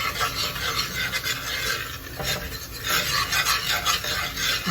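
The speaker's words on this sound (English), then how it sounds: "Then we're just going to mix it in with the butter" Flour stirred into melted butter for a bechamel sauce for Egyptian macaroni bechamel, a steady close scraping and rasping of the utensil against the pan that continues without pause and with no talking.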